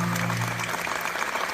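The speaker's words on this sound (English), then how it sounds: "They're applauding everything." A podcast's live comedy audience breaks into applause, a dense wash of clapping that carries steadily through the moment with no one talking over it.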